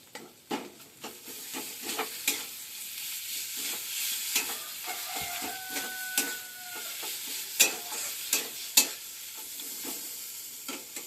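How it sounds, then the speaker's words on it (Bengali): Potato and teasel gourd seed paste hitting a hot frying pan, giving a steady close sizzle with scraping stirring knocks and a few brief clatters, no voices. "আলু আর কারকলের বীজ বাটাটা দিয়ে দিলাম"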